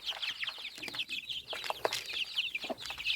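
Chickens cluck softly and continuously nearby while eating pelleted feed, with small pecking and scratching sounds mixed in.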